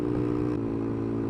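A 125cc motorcycle engine is held at high revs, a steady buzzing drone with a slight shift in tone partway through, heard from the rider's position with no talking.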